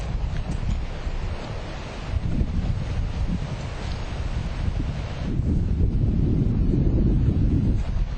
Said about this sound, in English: On this hot and windy beach